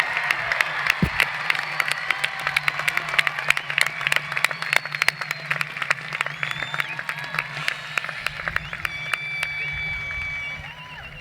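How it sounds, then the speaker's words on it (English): Large crowd at the Aliso Niguel High School graduation clapping and cheering for the class of 2016, dense sustained applause in an open venue, with some voices mixed in and a brief low thump. "Let's give them one more round of applause."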